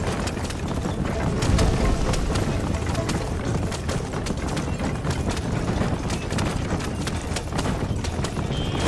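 A horse gallops in Red Dead Redemption, its hooves pounding in a fast, steady clip-clop rhythm close by, with occasional sharp bangs mixed in.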